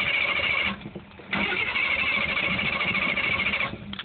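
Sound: small engine cold start attempt

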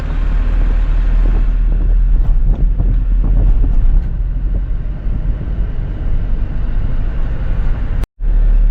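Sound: cold wind blowing on a mountain ghat road

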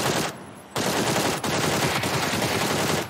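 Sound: gunfire in the video game PUBG

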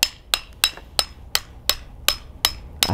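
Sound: hammer tapping transformer sheet metal loose

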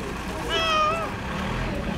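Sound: kitten meowing

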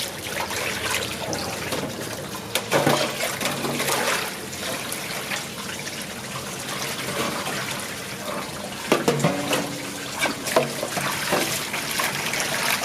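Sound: rinsing pork large intestine under cold running water

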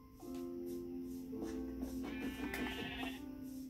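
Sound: sheep bleating in Minecraft video game

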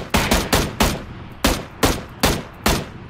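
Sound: gunfire in the video game PUBG Battlegrounds

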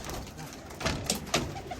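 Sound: pigeons cooing as they leave the loft

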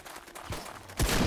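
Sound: video game gas pump explosion

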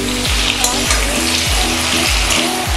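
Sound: pointed gourd (potol) frying in pan

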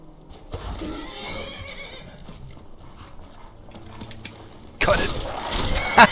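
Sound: horse neighing in Skyrim Dawnguard video game

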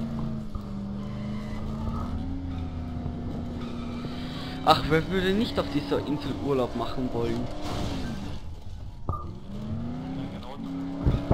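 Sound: car driving and skidding in the video game Dead Island

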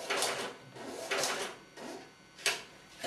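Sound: receipt printer printing shelf edge labels

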